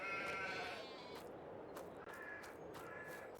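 Sheep bleat from inside a farm pen holding a flock, several wavering calls overlapping at moderate distance, with a crow cawing intermittently in the background and steady outdoor ambience throughout.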